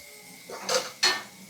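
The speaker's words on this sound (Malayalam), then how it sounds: "മൂടി വെക്കട്ടെ." A lid is set onto a pot of fish curry with two quick metallic clanks, close and distinct over a low background.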